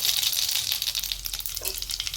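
Mustard seeds and cumin sizzle and crackle in hot oil in a wok, a continuous loud bright hiss with rapid popping, close up and with no talk.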